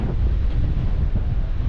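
Strong wind blowing hard across the open waters of Boundary Bay near Squamish, a loud, steady low rumble buffeting the microphone with no voices.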